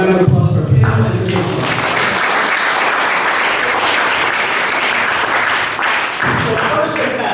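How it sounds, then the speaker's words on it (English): An audience at a Bloomsday event on Ulysses applauds the panel, sustained loud clapping that swells in after a voice speaks at the start and fades toward a voice at the end. "So please give a warm round of applause for our panel"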